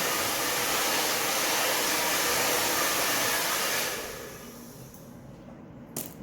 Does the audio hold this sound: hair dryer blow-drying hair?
yes